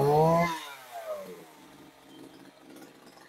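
A 28cc chainsaw engine revs high briefly on a test start, then drops to a lower, rough idle that continues, fading slightly.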